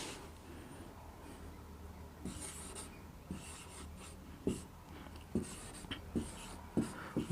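Chalk or pen writing on a board in a chemistry lesson, with faint scratchy strokes and a run of sharper taps toward the end, quiet and close.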